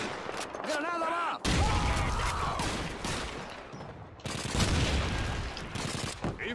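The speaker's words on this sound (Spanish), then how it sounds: "¡Es una MG-42!" In Call of Duty 2, German MG-42 machine gun fire and other battle gunfire crackle in dense bursts, mixed with booming impacts and soldiers shouting over the din.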